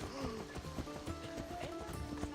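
A horse in Assassin's Creed Odyssey moves with a rapid, steady clatter of hooves, quiet and mixed with background game noise.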